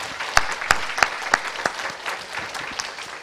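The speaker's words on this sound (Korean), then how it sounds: "우리 한결 형제 팀들을 위해서 박수 한번 격려했으면 좋을 것 같습니다." Church congregation applauding a worship team, with sharp claps sounding together in a few strong bursts before settling into a softer, steady patter of scattered clapping.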